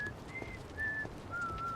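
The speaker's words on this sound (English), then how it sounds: "Oh, that's you out here whistling?" A character in the video game Like a Dragon: Infinite Wealth whistles a few clear, sustained notes one after another, moderately loud over a soft background bed of game ambience.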